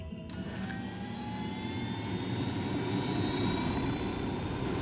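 Helicopter in the video game Ghost Recon Wildlands, a steady whirring rotor and engine drone holding at an even level throughout, with no voices over it.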